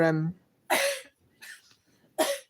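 Three or four sharp coughs in quick succession, close by, following a brief voiced sound at the start.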